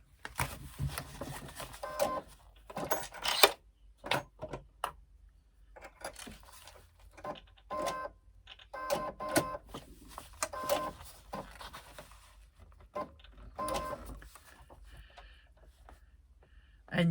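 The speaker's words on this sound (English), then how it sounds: "you are going to stitch down the side of your pocket" A sewing machine runs in short separate bursts while stitching down the side of a fabric pocket, with quiet clicks and handling noises in the pauses between runs.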